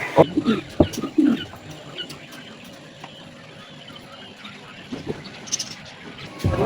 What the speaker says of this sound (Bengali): এটি হচ্ছে কিং কবুতর অর্থাৎ কবুতরের রাজা